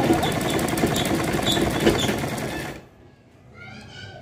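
A domestic sewing machine runs steadily in a loud, close continuous whir while stitching two layers of salwar fabric together, then stops abruptly near the end, leaving a quieter room with faint light sounds.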